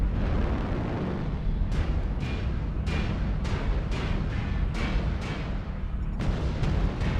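Repeated booming explosions in a mech combat video game, about eight sharp blasts at an irregular rhythm over a dense rumbling roar of battle, loud and close.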